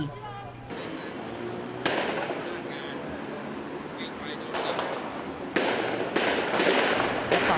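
Gunshots during a street clash between protesters and armed men in Bangkok: several sharp, loud cracks ring out at irregular intervals over a steady roar of crowd and outdoor noise.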